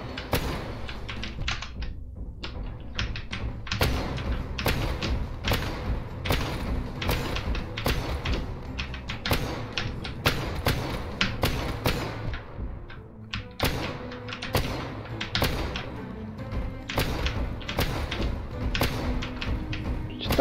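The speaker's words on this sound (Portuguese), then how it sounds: "Tá muito tiro." Gunfire in Hollow Knight played with a gun mod: rapid, sharp shots crack out in quick bursts and near-constant streams, with short lulls, over the game's low background sound.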